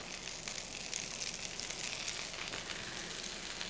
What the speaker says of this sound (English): When I get that sizzle, I know that it's ready.